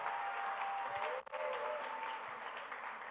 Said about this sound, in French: nous acclamons très fort le Seigneur pendant que Maman Nancy est en train d'approcher